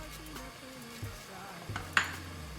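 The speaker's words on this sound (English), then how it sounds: "I'm gonna go ahead and add some onions, and let me go ahead and put that. Onions and peppers." Onions and peppers being stirred in a frying pan for a vegan lasagna, with soft scraping and a sharp utensil clack against the pan near the end, all fairly quiet.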